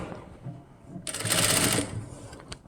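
A sewing machine stitches the neck hem of a blouse in one short, close whirring burst of less than a second, with quiet room noise before and after.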